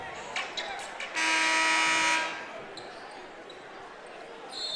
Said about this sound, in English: There it is, buzzer, and that's it.